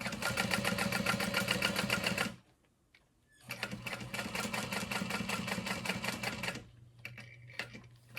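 A walking foot sewing machine stitches through vinyl and leather in two fast, steady bursts of rapid needle clatter, separated by a short pause, close and clear, with no one talking.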